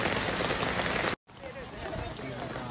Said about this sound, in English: it's storming right now